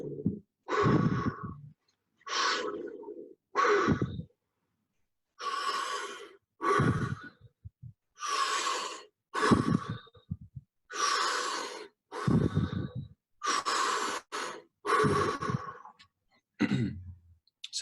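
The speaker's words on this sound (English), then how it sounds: "big breath in" Deep breaths during a breathing exercise, a long series of loud, close, airy inhales and exhales in regular pulses separated by short silences.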